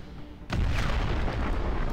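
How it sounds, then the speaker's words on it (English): A large explosion in the Empyrion Galactic Survival video game booms suddenly and loudly, then rumbles on as a sustained heavy roar with crackling debris. "I had another large explosion."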